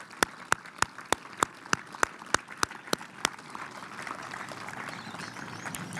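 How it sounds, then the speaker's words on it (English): A round of applause at an outdoor Victorian Aboriginal remembrance service: a dozen sharp, evenly spaced claps stand out clearly over a thin scattered patter for the first three seconds, then the clapping fades into a soft, steady background wash. "please do join me in a round of applause for the Victorian Aboriginal Remembrance Committee"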